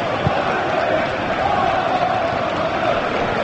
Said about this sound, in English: you can hear the crowd getting more and more nervous